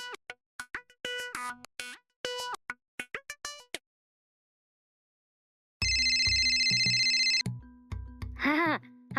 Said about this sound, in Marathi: तुम्ही करा पिंकी ताईला फोन